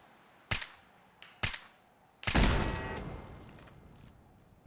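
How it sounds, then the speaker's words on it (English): Gunfire in Fallout 4 from a machine gun turret: two sharp single shots, then a louder burst with a long ringing decay, heard alone at fairly close range. "There's a machine gun turret."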